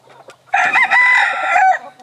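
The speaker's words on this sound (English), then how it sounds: "This is my white radio cockbird." A white American Thai stag rooster crows loudly and up close, one long sustained call after a few faint clucks, with no voices around.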